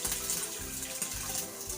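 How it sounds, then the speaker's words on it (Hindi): Water poured into a kadhai while making chaas for panjiri, a steady splashing, gushing stream heard close up and alone for its whole length. "ये हम 1 लीटर पानी इसके अंदर ऐड करेंगे"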